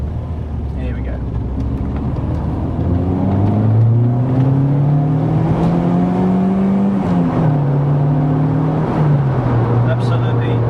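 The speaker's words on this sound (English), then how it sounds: "So hopefully you'll be able to hear the induction roar." A Mk1 Golf GTI four-cylinder engine accelerating hard in second gear, its induction roar rising steadily in pitch, briefly dropping and climbing again, loud and close inside the car with no talk.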